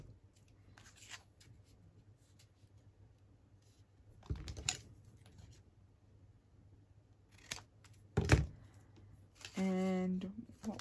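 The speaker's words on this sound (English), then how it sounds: "I'm just going to cut that into a tag shape" Scissors cutting paper into a tag shape: a few separate snips and crisp cuts set against a quiet room hum, with a brief voice in between.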